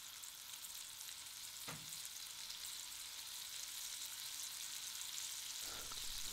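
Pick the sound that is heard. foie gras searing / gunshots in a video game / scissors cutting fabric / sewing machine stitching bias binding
foie gras searing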